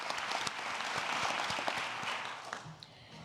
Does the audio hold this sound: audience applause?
yes